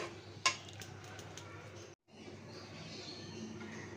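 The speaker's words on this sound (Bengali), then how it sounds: "ঢাকনা দিয়ে ঢেকে মশলাটা কষিয়ে নিচ্ছি।" A lid clatters once onto a pot of spice paste of ginger, coriander, chili and turmeric on a clay stove. A faint low simmer continues beneath, and the sound briefly cuts out midway.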